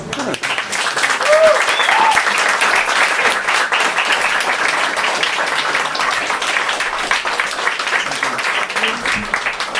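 Audience at an open-mic poetry reading breaks into sustained, dense applause that starts at once and holds at an even level throughout, with a few brief voices lifting above the clapping early on.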